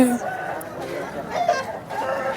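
At a Vijayawada poultry market a rooster gives short clucking calls amid crowd murmur, with voices talking over the busy background.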